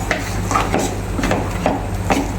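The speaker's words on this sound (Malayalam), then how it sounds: "അപ്പോൾ നമുക്കതിനുള്ള മാവൊന്ന് കലക്കിയെടുക്കാം." Batter for raw banana bajji being stirred in a bowl, giving a steady series of close, scraping, sloshing strokes at a regular pace with no talking.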